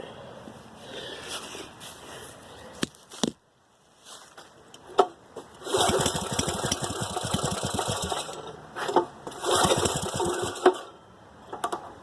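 A Briggs big block 6.5hp small engine is pulled to start, catches with a few sputters, and settles into a choppy, rapid idle that rises and falls in loudness.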